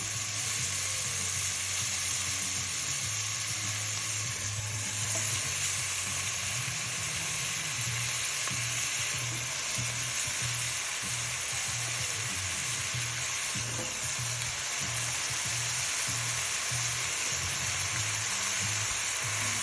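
Vegetables cook in broth for ropa vieja, giving a constant soft sizzle and bubbling hiss that runs evenly throughout with no talking.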